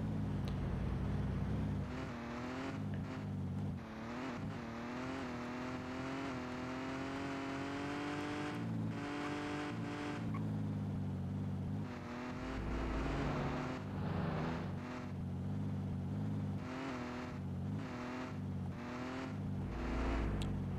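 A car engine revving and droning in True Crime: Streets of LA, a sustained steady motor hum that swells and dips with throttle changes, heard alone and fairly close throughout.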